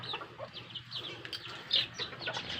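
Native chickens cluck and chirp in a backyard flock, a steady run of soft, overlapping calls at moderate distance with no talking.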